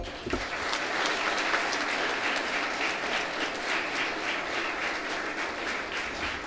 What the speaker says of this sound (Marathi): जोरदार एक वेळा टाळ्या वाजवा